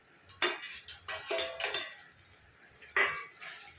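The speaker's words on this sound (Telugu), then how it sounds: "వేసుకొని కలుపుకోవాలి" A spoon stirs through bottle gourd curry with freshly added coriander in a metal pan, giving a few separate clinking scrapes, with no voices present.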